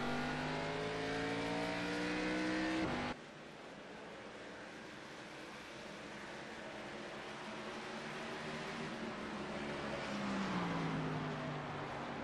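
Race cars roar as the field goes green at the Coca-Cola 600 after the pace car pulls off, a loud sustained engine drone with a sharp cutoff early on, then rising multi-car revving and pitch sweeps as they accelerate.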